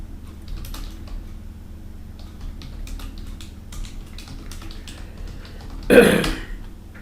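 Keystrokes on a computer keyboard while working in an Excel spreadsheet, a sparse run of faint, close clicks over quiet room noise, ending in one louder burst of key presses.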